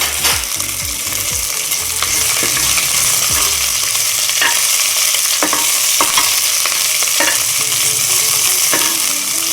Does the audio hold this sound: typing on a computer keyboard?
no